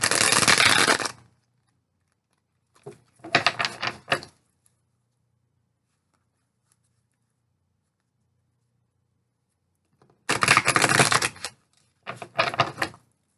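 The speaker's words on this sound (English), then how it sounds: "I'll shuffle again on camera" Two separate bursts of a card deck being riffled and bridged, crisp papery ruffling, with a quiet pause between and a brief soft rustle.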